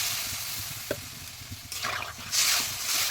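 Water poured into a pan of curry made with kochur gati and taki fish, a rush of hissing sizzle and bubbling rising sharply near the end over steady stirring and frying noise.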